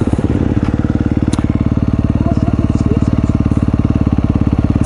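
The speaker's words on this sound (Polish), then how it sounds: "To jest praca z motocyklem." A 350 cc dirt bike engine runs steadily close by, a loud, even rhythmic idle-like pulsing throughout with a brief rougher burst at the start.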